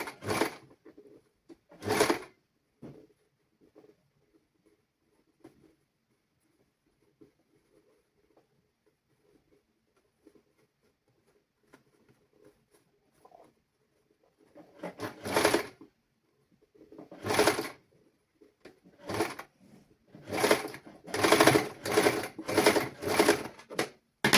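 Sewing machine stitching the side seam of a baby summer dress: a few short bursts early, a long quiet stretch with faint handling, then repeated stitching runs clustering toward the end, fairly close and with no voices.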